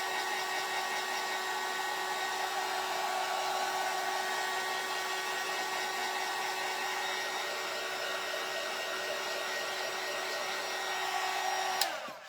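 A hair dryer blows steadily on a freshly painted Dollar Tree craft egg, a constant loud whirring hum that holds for about twelve seconds before cutting off abruptly at the end.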